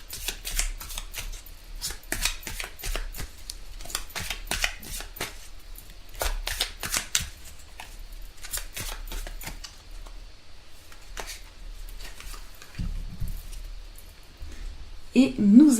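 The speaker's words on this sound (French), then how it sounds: "On va tirer une carte pour voir le conseil amoureux du jour." Tarot cards being shuffled and drawn: a long run of quick, crisp riffling flicks and soft slaps close by, pausing now and then, with a voice coming in near the end.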